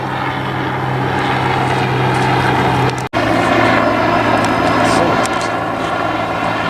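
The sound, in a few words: helicopters flying overhead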